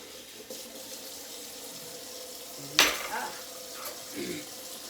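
A pan is washed under a running kitchen tap, with a steady low hiss of water, then a sharp clatter and splash partway through, followed by softer rinsing and scrubbing sounds nearby.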